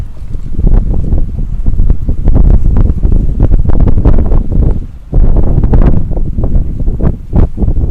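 Wind gusting across an old, decaying concrete pier in St. Petersburg, Florida, battering the microphone with loud, continuous low rumbling buffets that swell and dip throughout, briefly easing near the midpoint before surging again.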